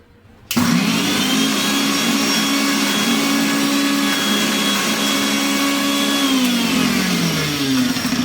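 A kitchen mixer grinder runs steadily, grinding neem leaves with a few spoonfuls of water into a smooth paste; the loud motor whir starts abruptly after half a second and holds, its pitch dropping slightly near the end.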